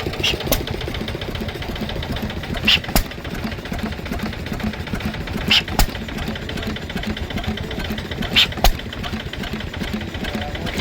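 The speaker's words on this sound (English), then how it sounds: "Concludes the lineup of stationary engines here." Stationary engines at a show idle and chug continuously, loud and close, with a few sharp metallic clicks repeating every few seconds.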